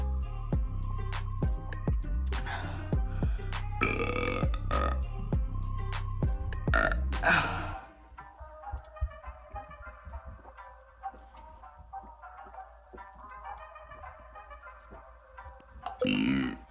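A person burps over and over, with loud, drawn-out belches at first and then quieter, scattered burps before one more loud belch at the end.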